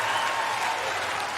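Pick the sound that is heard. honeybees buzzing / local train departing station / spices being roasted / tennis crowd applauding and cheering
tennis crowd applauding and cheering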